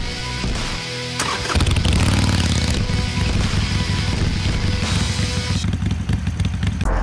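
A heavy 2020 Harley-Davidson Street Glide Special motorcycle engine rumbles steadily, loud and close, with throttle rises and shifts as the bike rides along in the Odenwald.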